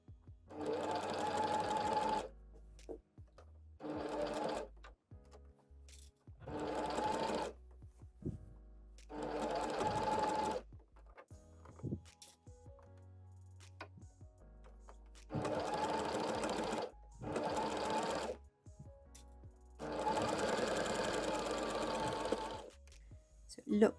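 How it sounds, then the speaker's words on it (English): Sewing machine stitching a continuous placket in fabric, running in six or seven distinct bursts of steady whirring, each a couple of seconds long, separated by quiet pauses with soft handling noises. "I'm going to sew along here."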